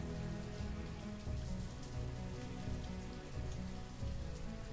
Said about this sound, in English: The rain falling and the music playing and nobody dying.